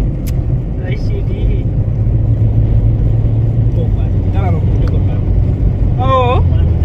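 Trucks overtaking a car on an open road near Walvis Bay, a loud, constant low engine and road rumble heard from inside the moving car, with speech in the cabin.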